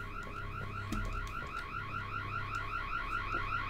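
In the ghost-house game Boo Men an alarm warbles continuously in a fast, even two-tone cycle, moderately loud and steady, with a low hum and an occasional click underneath.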